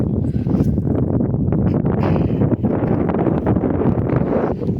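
Strong wind roars outdoors across an open dump site under a threatening sky, a loud continuous buffeting rumble hitting the microphone for the whole stretch.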